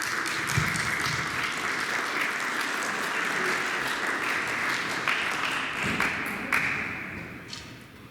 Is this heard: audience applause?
yes